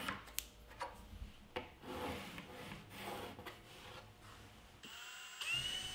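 Scratchy, rubbing strokes drag across wood in a quick, uneven rhythm, close up, as a line is traced along a scrap wood piece on a cabinet side, followed by a brief higher-pitched squeak.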